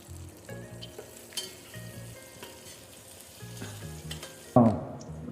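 Mint leaves sizzle and fry in hot oil while country chicken biryani is being cooked, a steady close crackle that ends in a sudden loud burst of sizzling near the end.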